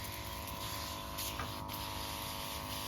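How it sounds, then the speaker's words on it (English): A KIMO 20V battery-powered backpack sprayer runs steadily while spraying plants, a constant motor hum with a hissing spray layered over it, fairly close and without talk. "we'll get this on and get to doing some spraying"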